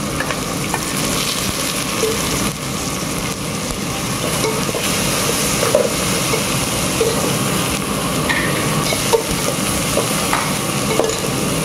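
Garlic and ginger fry in hot oil in a pan, giving a loud, continuous sizzle close up, with scraping stirs of a spoon against the pan and no talking.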